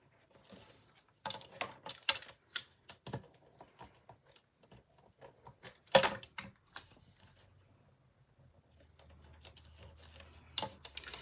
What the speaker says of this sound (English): I'm just gonna run a little bit of tape runner of these and just set them down.